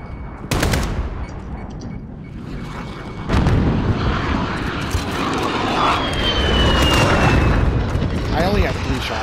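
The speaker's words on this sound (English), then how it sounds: "Calling in the VTOL right now" In Call of Duty Modern Warfare, a called-in VTOL aircraft roars overhead amid heavy gunfire, a sharp burst near the start and a louder sustained engine wash with rapid shots layered through the battle.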